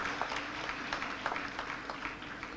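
An audience claps together in a steady, dense round of applause for the non-teaching staff, many hands close and continuous throughout, with no voices over it.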